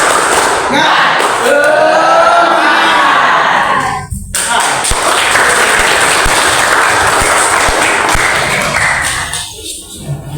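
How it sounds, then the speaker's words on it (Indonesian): A classroom audience at an Islamic tajwid lesson joins in a loud group clap, with voices raised together at first, then a dense, sustained burst of clapping that fades near the end. "Kita tepuk semangat dulu ya."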